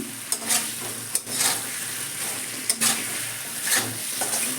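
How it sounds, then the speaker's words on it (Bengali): Potatoes sautéing in a pan on medium heat, a continuous sizzle with intermittent scraping stirs and light spoon knocks at irregular intervals, heard up close without any voices. "আলুগুলো দিয়ে দিলাম আলুগুলো দিয়ে একটু কষে নেব গ্যাসটা মিডিয়ামে দিলাম"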